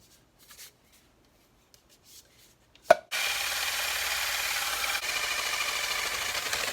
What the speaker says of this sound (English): So I've got my flat black spray paint, got my shaker, and put it in my drill.